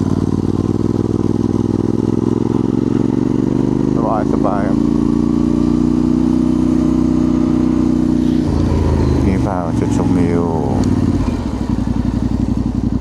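A Yamaha Tenere 700 motorcycle climbing a hill in second gear, its engine holding a steady low drone close by, with someone talking over it at times.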